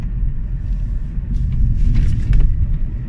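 A car rumbles past close by with a low, steady engine and road noise that swells slightly toward the end.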